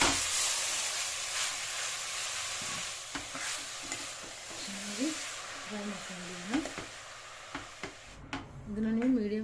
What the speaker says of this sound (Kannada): ಈಗ ನಾವು ಕ್ಯಾರೆಟ್ ತುರಿನ ಫ್ರೈ ಮಾಡ್ಕೊಳ್ಳೋಣ ಇದೇ ತುಪ್ಪದಲ್ಲಿ